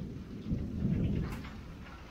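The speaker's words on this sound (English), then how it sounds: "We are under a severe thunderstorm warning." During a severe thunderstorm warning, a low rumble of thunder rolls steadily beneath a constant hiss of rain, close and moderately loud, with no voices.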